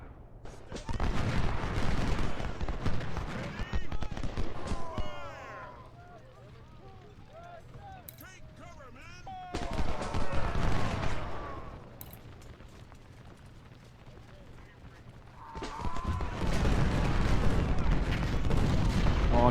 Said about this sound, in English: Artillery fire is causing them some damage.